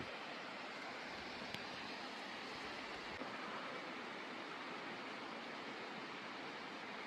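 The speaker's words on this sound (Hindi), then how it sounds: "अभी हम पहुँचे हैं मुंशियारी से 5 किलोमीटर दूर हरकोट वाटरफॉल पर" Harkot waterfall near Munsiyari in the mountains roars as a continuous broadband wash of falling water, steady and fairly loud with no breaks or voices.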